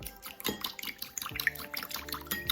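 Marinade is poured over eggplants in a kitchen, a faint trickle with soft drips and light splashing throughout.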